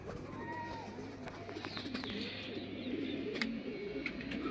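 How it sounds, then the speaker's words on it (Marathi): Pigeons at a pigeon market, soft cooing and occasional bird calls in a busy outdoor space with faint background talk and a steady low hum. "इकडं पण पिजन आहे"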